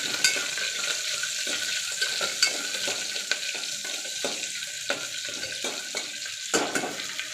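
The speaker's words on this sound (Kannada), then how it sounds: "ಆಮೇಲೆ ಹಸಿಮೆಣಸಿನ್ಕಾಯಿ ಸ್ವಲ್ಪ ಫ್ರೈ ಮಾಡ್ಕೊಳ್ಳಿ" Green chillies fry in a pan for jeera rice, giving a soft continuous sizzle under repeated light scraping and stirring knocks at an uneven rhythm, close and moderately quiet with no talk.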